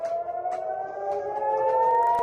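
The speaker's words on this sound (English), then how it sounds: "Sirens sounded in Tel Aviv as residents were seen running for cover" Air raid sirens sound in Tel Aviv during a missile alert, holding a loud, sustained civil-defense wail that slowly rises in pitch, with no voices over it.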